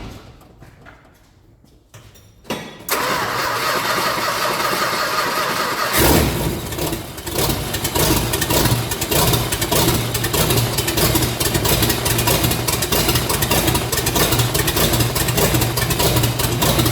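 Mopar truck with a 440 engine cranks briefly, catches and roars to life, then settles into a loud, rough, unmuffled idle that rumbles steadily and close for the rest of the stretch.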